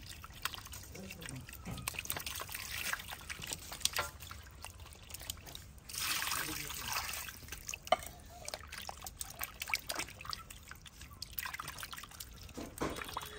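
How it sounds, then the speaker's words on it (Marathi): Water splashes and drips intermittently as chicken leg pieces are rinsed by hand, with a louder pouring burst midway. "3 ते 4 पाण्याने स्वच्छ लेग पीस धुवून घेऊ आपण।"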